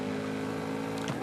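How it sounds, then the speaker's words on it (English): Car engine in the Forza Horizon 5 video game, its steady droning hum reverberating off a rocky wall, loud and continuous with a slight rise near the end, no talk. "you can just hear the sound of your engine like bouncing off the wall and coming back at you"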